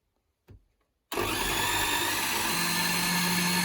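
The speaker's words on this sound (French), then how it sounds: "Et on va pouvoir mixer." A blender starts abruptly after a short knock and runs steadily at its lowest power setting, whirring loud and close as it emulsifies oil into an algérienne sauce.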